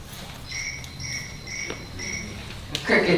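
Crickets chirp in steady, evenly spaced pulses through a hushed room during a city council meeting, with a brief rustle near the end.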